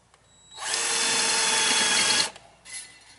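Ryobi power drill spinning a drill bit through a hole, one steady loud whine of about a second and a half, then a brief fainter burst.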